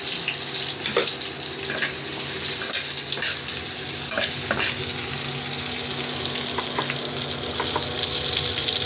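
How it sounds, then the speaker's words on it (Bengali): Salted boiled potatoes frying with turmeric in a kadhai give a continuous close sizzle, with scattered clicks and scrapes of stirring through it. "আমি হলুদ দিয়ে একটু ভেজে নিই"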